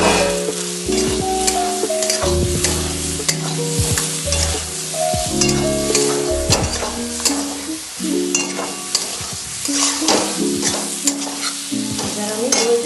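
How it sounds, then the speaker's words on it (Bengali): Whole green chillies are stirred into sizzling masala for a vegetarian pointed gourd (potol) curry. Loud, close scraping and clanking of the spoon against the pan repeats throughout over a constant fry, with no voices. "এবার আমি এই কাঁচা লঙ্কাগুলো দিয়ে দিলাম।"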